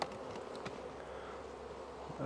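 Honeybees buzz around a hive as an old starter colony is moved into a new one, giving a close, continuous droning hum with no voices.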